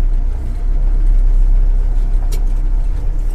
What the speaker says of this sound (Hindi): ये मैंने क्लिच को छोड़ा, मेरी गाड़ी रनिंग हो गई है